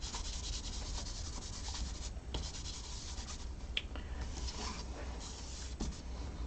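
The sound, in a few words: rubbing embossing buddy on paper before embossing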